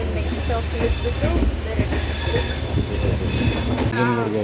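Interior of a moving passenger train heading toward Nanjangud, with a loud, continuous rail rumble, wheel squeal and clatter throughout, and faint voices in the background.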